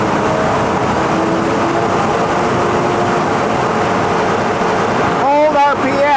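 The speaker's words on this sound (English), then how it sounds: "It says rev the engine. You need to bring it up." A car engine runs at raised revs during an alternator ripple test with a Midtronics EXP-1000 battery tester, giving a loud, steady, close drone that holds for the whole stretch and ends in a brief tonal warble.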